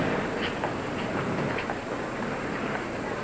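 A train runs steadily along its rails, a continuous rumble with faint rhythmic clatter throughout, heard from inside or close by with no talk.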